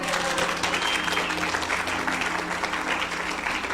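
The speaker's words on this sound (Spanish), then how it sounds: "Ay, hasta Ryan aplaudió." An audience breaks into sustained applause after a vote at a gathering, with dense, even clapping throughout and faint voices mixed in.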